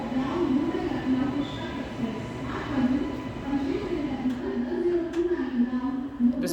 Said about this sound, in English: It's being shunted out of the platform right behind the Udyan Express.